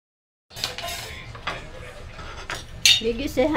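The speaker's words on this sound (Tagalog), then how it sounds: "Hugasan ko muna yung Mickey." Miki noodles washed in a pot for miki guisado with squid balls, a wet clatter of metal and water sloshing, with several sharper clinks near the end, close by and without talk.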